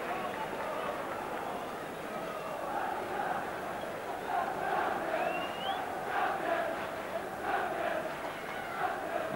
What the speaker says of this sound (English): some of the Liverpool crowd here shouting champions